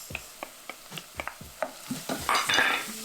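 Carrots are tossed into a hot pan and stirred: a run of quick utensil taps and scrapes over a low sizzle, ending in a brighter burst of frying hiss.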